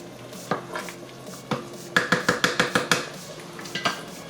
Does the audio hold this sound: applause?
no